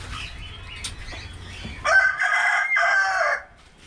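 An Indian country rooster kept on a home terrace flaps its wings briefly, then lets out one loud, close, drawn-out crow in two strained phrases.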